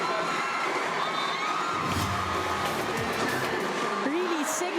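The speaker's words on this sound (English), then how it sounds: "making the crowd go wild" Crowd cheering at a PVL Invitational Conference women's volleyball match for third place, a steady wash of arena noise with whoops and shouts, heard under continuous commentary.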